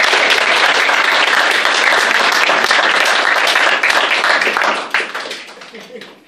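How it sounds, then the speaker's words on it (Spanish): Audience applause fills a Peruvian academic awards ceremony, dense steady clapping from a crowd that fades out toward the end. "Cosa que creo que merece un aplauso para estos jóvenes."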